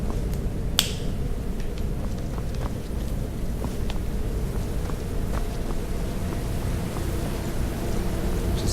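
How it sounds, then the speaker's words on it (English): A single sharp finger snap close to the microphone, sitting over a steady loud background rumble with faint clicks. "Just snapping my fingers to make sure that my mic's still on."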